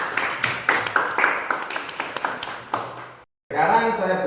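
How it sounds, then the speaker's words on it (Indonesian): A short burst of clapping from a small group, scattered claps fading out before a brief silence and then voices. "Berikan tepuk tangan untuk perwakilan kelompok 1."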